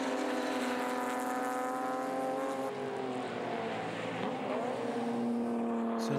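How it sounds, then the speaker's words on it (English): BMW race car engines drone steadily at Hampton Downs, rising and falling in pitch as cars pass, one fading while another approaches, loud and fairly close throughout. "So lots of different race cars."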